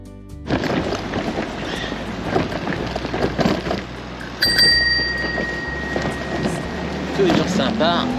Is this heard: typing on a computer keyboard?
no